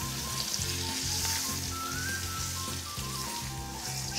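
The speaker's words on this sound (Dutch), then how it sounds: "En dan pak je maar die tangen en dan ren je maar dat vlees door die pannen heen." Entrecote steak sizzles and fries in a hot pan, a continuous dense crackle with rhythmic low thumps and scraping as the meat is moved around with tongs, close and steady.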